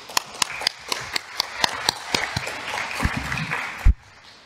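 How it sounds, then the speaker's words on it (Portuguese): Scattered, uneven hand claps ring out in a council chamber for the mayor during an extraordinary session, fairly near and thinning out before a single louder knock near the end. "uma salva de palmas para a nossa prefeita"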